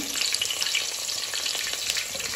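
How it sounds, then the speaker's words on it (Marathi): Onions sizzle and fry in hot oil left over from frying paneer for a biryani, a steady crackling hiss with soft stirring, close and alone without talk. "त्याच तेलामध्ये आपल्याला कांदा सोडायचा आहे"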